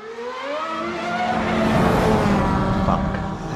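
A race car driving at a track event, its engine note rising in pitch as it accelerates and then roaring loudly and continuously nearby, with tyre noise mixed in and no speech.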